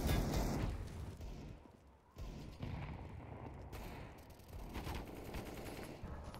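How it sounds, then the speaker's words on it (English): AK rifle gunfire in a Counter-Strike match on the Nuke map, rapid sustained bursts of shots rattling through the whole stretch with a short lull midway, moderately loud against dense game noise. "Nice AK coming round from Donk as he finds the frag onto Shalfie"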